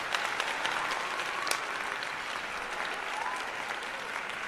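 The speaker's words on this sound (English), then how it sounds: "Let's give you your applause." An audience applauds at a Google Launchpad for Women event, giving a steady, moderately loud round of clapping with a few sharper claps, and no speech over it.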